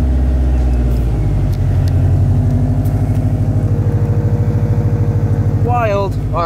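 Subaru WRX engine and road noise from inside the car while driving on a drive to get wrapped, a loud steady low rumble with a pulsing drone, close and continuous throughout.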